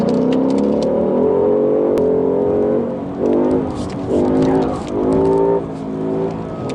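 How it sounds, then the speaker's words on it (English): A Ford Mustang GT California Special launching hard from 4,300 rpm on launch control, its V8 roaring loud and close, rising through gears with brief dips between shifts. "we're gonna try the Mustang GT California Special, see what she's got. And you can use the launch control"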